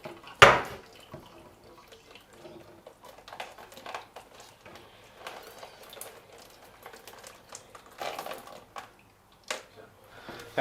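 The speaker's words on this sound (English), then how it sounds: "pour some boiling water over it." Boiling water is poured over heat-shrink tubing, giving a faint, steady trickle and splash with a sharper clatter near the start and a few scattered drips and knocks.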